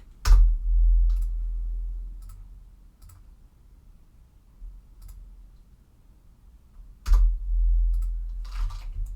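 Mouse clicks and keyboard keys on a computer running Houdini crowd software, a few sharp taps at the start and a louder cluster near the end over a quiet low hum, with no talking.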